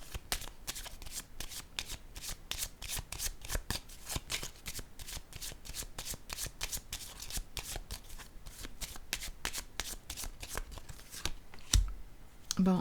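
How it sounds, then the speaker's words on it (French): Playing cards are shuffled in a long, steady run of rapid riffling flicks, close and fairly quiet, ending with a card being drawn. "Je vais piger une carte sur vérité."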